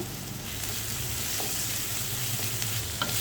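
Crushed onion, garlic and ginger paste fry in oil in a frying pan for a small-fish curry, giving a steady, close hissing sizzle with a few faint pops and scrapes.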